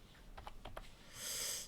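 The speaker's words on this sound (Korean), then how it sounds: "타이핑을 이렇게 했는데" A few quick keystroke clicks on a computer keyboard while entering API request code, short and fairly close, followed by a brief burst of hiss with no talking.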